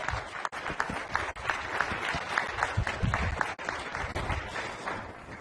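At a hacker conference panel, an audience gives sustained, even applause for Tim Pierson, a dense crowd of clapping hands heard steadily throughout with brief dips.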